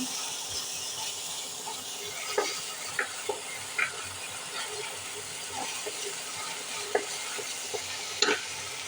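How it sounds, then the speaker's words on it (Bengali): Spices with turmeric and chili powder fry in a pan while cooking bitter gourd, potato and prawns, giving a steady close sizzle with occasional soft stirring knocks, no talk. "এবার একটু হলুদের গুঁড়া, একটু মরিচের গুঁড়া দিয়ে একটু কষিয়ে নেব।"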